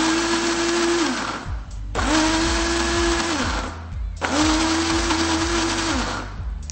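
A kitchen blender pulses in three long bursts with brief gaps while blending ingredients for small red-fruit tarts, a loud whirring motor that drops in pitch between pulses.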